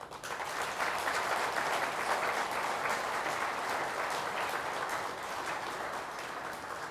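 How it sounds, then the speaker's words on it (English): A crowd at a Taj hotel awards event applauds the Vivanta Vadodara hotel, many hands clapping in a thick, steady burst that stays loud and even throughout with no speech over it. "So I would want all of you to applaud Vivanta Vadodara."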